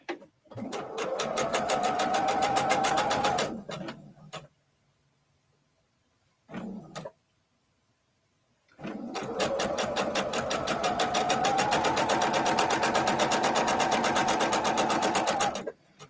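A home sewing machine stitches in two long steady runs of rapid, even needle chatter, with a short burst between them and a quiet pause, close and loud with no talking.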